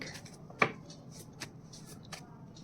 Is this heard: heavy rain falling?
no